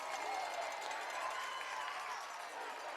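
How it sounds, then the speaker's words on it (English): A high school football crowd at Harris County rises and grows louder, a faint, distant wash of cheering and clapping that holds steady throughout. "Is now the Harris County crowd getting back to their feet, getting back loud."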